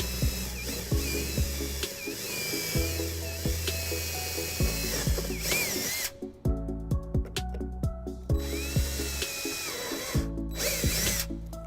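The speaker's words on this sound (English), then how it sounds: "we're going to drill a couple holes here, drop some screws down and bolt it down" A power drill bores holes to mount a trailer wiring bracket on a 2011 Dodge Grand Caravan, with repeated loud revving bursts and short pauses, close and clear, alone without talk.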